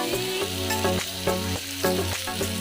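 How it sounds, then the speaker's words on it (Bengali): Potatoes stirred and fried in a pan, with a steady sizzle under a rhythmic series of strokes and scrapes, close and fairly loud, alongside tonal background music and no talk. "আমি আলুটাকে একটু নেড়ে চেড়ে ভালোভাবে ফ্রাই করে নেব।"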